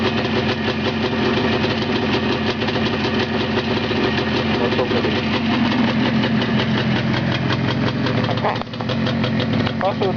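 A motor runs steadily at idle, a loud continuous mechanical chug with a faint knocking rhythm, while people talk over it.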